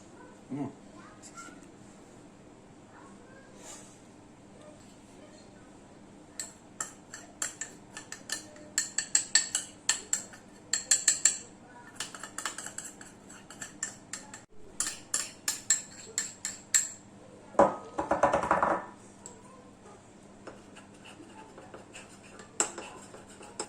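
A spoon stirs soy sauce, sugar, sesame oil, water and soybean oil together in a bowl for Chinese noodles. The light clinks and scrapes come in irregular clusters, close and fairly quiet, with a short voice near the end.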